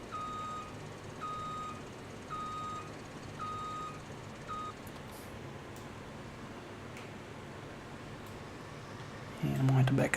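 A farm vehicle in Farming Simulator 17 gives a faint, evenly spaced reversing beep over a low engine drone. Several repeated tones come first, then they stop, and a louder thud closes the clip.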